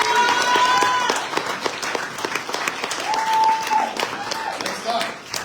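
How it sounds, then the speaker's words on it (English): Audience at a poetry reading event applauds for the organizer, a dense, steady burst of clapping with some cheering voices and a whistle-like tone, fading slightly toward the end. "Let's give her one more round of applause."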